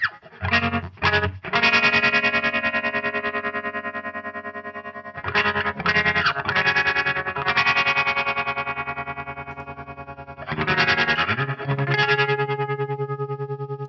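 Electric guitar played through a reverb and delay effects pedal, loud sustained chords and ringing notes with long echoing tails, in three phrases separated by brief pauses.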